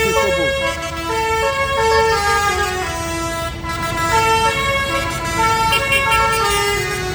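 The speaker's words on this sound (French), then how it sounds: "Celui qui veut un klaxon comme ça, vous pouvez l'acheter." A truck's multi-tone musical air horn sounds a long sequence of shifting notes at a farmers' convoy departing from Les Invalides, loud and close over a rumbling engine.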